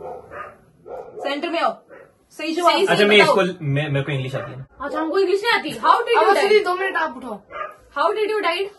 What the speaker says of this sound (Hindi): अच्छा कुत्ते भौंक रहे